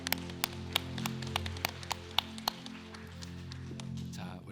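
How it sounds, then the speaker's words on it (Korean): A church congregation at a Sunday worship service claps after a closing prayer: a loose string of distinct, evenly spaced claps rings out over a steady, sustained musical drone. "감사의 박수 올려드립시다."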